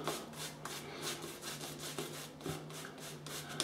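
Italian shaving soap being scooped out of its bowl, quiet scraping and rubbing strokes repeating roughly every half second, close and faint.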